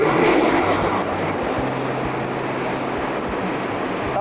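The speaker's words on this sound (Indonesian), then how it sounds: "Itu adalah suara kereta api." A steady, broad rumble of a commuter train rolling past, continuous and fairly close, with a low droning hum throughout.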